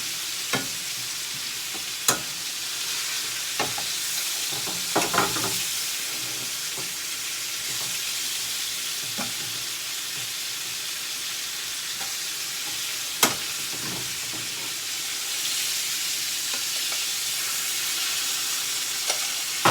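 Garlic sizzles steadily in a frying pan while being stirred, with a constant hiss broken by occasional sharp scrapes and clicks of the utensil against the pan.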